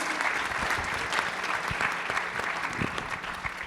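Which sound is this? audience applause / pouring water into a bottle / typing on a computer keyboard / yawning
audience applause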